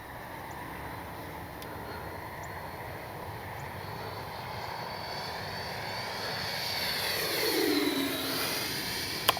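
Freewing F-22 70mm radio-controlled jet flying past with gear and landing flaps down, a rising ducted-fan whine that swells and sweeps in pitch as it passes fairly close, then fades.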